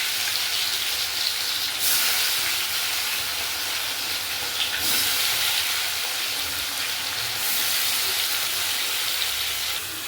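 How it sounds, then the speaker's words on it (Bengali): Chicken chaap pieces fry steadily in hot oil with a dense, continuous hiss and crackle that swells and eases in waves, close and fairly loud throughout, with no voices. "এইবার এটা ভালো করে তেলের সঙ্গে এগুলো ভালো করে ভেজে নেব।"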